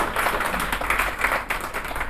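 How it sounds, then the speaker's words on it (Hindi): An audience at a farewell party in Pakistan claps steadily for a guest coming onto the stage, the applause dense and continuous at a moderate level, with a voice faintly underneath. "आप लोगों की तालियां थमनी नहीं चाहिए।"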